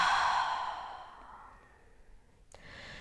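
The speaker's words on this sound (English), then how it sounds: "And exhale loud." One loud, long breathy exhale during yoga breathing, close and strong at first, then fading to quiet, followed by a brief click and a softer breath; no talking.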